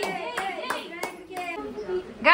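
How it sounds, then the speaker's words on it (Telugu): A small child claps hands in a quick series of sharp, close claps during a home Ganesh Chaturthi celebration, with voices speaking alongside. "కొట్టు కొట్టు చప్పట్లు కొట్టు"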